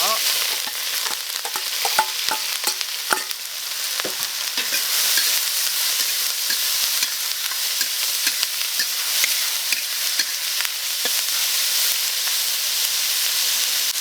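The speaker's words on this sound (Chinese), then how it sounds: "1盆辣椒下锅炒。" A large batch of chili peppers stir-fried in oil in a wok, a loud continuous sizzle and hiss with frequent scraping and clacking of the spatula against the pan, close and without talk.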